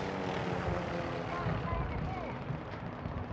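Care package airdrop aircraft in Call of Duty: Modern Warfare II, a steady, loud engine roar passing overhead throughout, with battlefield noise and voices mixed beneath.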